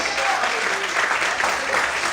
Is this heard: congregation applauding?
yes